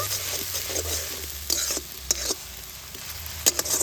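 Paste stirred into lightly warmed onion oil in a pan, soft sizzling with intermittent scraping stirs and a couple of sharp clinks, faint background hum.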